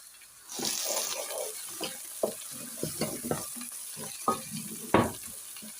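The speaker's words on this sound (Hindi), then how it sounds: "प्याज हमारा ब्राउन हो चुका है। अब मैं नमक, हल्दी, सब्ज़ मिर्च ऐड करूँगी।" Browned onions fry in a pan as salt, turmeric and green chilli are stirred in, a soft steady sizzle broken by several sharp scraping stirs of the spoon, close and alone.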